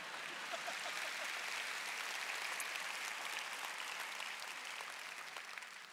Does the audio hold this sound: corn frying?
no